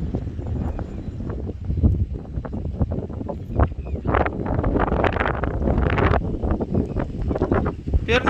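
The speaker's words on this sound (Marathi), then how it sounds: "वारं लय आले जातात उलून वाऱ्यानं" Strong wind blows over an open field after sowing, buffeting the microphone in loud, continuous rumbling gusts. Faint voice-like sounds come through the roar.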